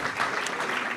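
Audience applause at a strategic conference on hybrid warfare, a brief burst of dense, steady clapping from a crowded hall.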